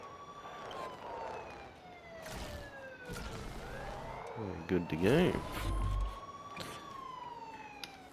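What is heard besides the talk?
emergency vehicle sirens in Trailmakers video game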